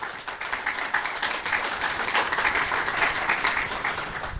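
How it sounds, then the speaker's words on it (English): Audience applause welcoming panel guests at a Korean American family separation event, steady sustained clapping from a crowd filling the whole stretch at moderate level, without voices. "So let's all just give them an initial warm welcome and applause."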